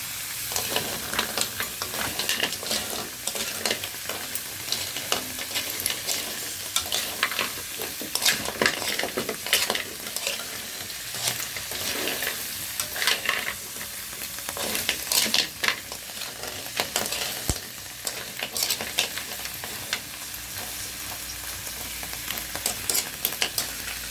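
Hibas seashells are stirred in a cooking pan, producing a steady sizzle broken by dense, clattering scrapes of shells against the pan that carry on for the whole stretch, close and fairly loud.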